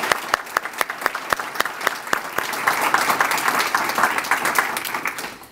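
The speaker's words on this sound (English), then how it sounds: "please join me in a round of applause saying thank you to all of those hard workers" Applause at an art show awards ceremony thanking the event workers, starting with steady distinct claps that swell into loud, dense clapping from a large crowd before fading.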